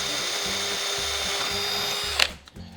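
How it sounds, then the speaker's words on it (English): A power drill boring holes in the fender of a 1949 Indian Scout motorcycle: a steady, close, high-pitched whine for about two seconds that cuts off abruptly with a clunk as the bit breaks through. "Let's drill some holes."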